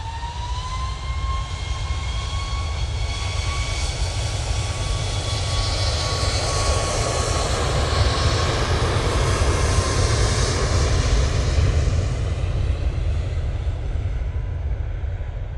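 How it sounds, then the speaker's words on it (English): A TUI Boeing 737 Max 8 jet at Manchester Airport gives a loud, sustained engine roar with a clear high turbine whine and deep low rumble, staying steady and close throughout with no talking. "Let's go on to that beautiful TUI Max 8"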